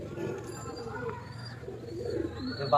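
Pigeons, breeding pairs kept for sale in Howrah Sankrail, cooing in soft rounded low calls that overlap steadily at close range.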